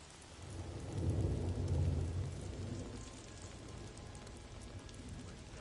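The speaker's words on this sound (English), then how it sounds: "It's dark and it's rainy" Rain falls steadily in the video game Days Gone while a deep roll of thunder swells early on and then fades beneath the ongoing downpour.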